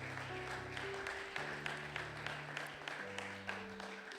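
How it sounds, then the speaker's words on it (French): A church congregation at a Sunday worship service applauds loudly for Jesus, with steady, dense clapping from many hands continuing for several seconds over sustained keyboard or organ tones. "Est-ce que tu peux acclamer très fort pour Jésus? Acclame."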